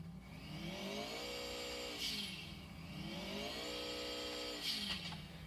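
A Sultan RS car engine in GTA IV revs up and down twice, rising and falling in pitch through repeated gear sweeps, steady and fairly loud with no talking.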